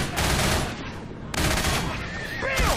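Sustained rapid gunfire in a modded multiplayer shooter game, dense and loud bursts filling the mix, with a voice speaking over it.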